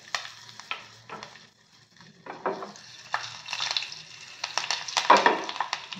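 Curry leaves and sesame seeds sizzle and crackle in hot oil during a tempering, with bursts of popping and spattering that come and go, occasional stirring, close and fairly loud.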